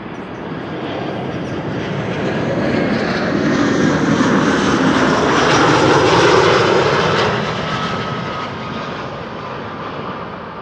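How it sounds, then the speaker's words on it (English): An easyJet Airbus A319 arriving at Schiphol from Gatwick swells from a steady engine rush into a loud, near roar midway, then fades back to a lower drone as it passes. "an A319 from EasyJet arriving from Gatwick"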